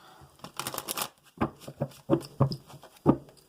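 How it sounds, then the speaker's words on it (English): Several quick riffling bursts of cards being shuffled, close by, separated by short pauses, with faint soft sounds between. "Shuffle 3 times and take the top 2 cards."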